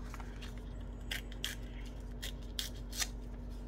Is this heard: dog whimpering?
no